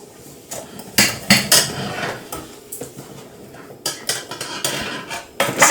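A hot springform cake pan and a cooling rack clatter and clank as the freshly baked cake is flipped over, with several sharp metallic knocks and rattles close by, separated by brief pauses.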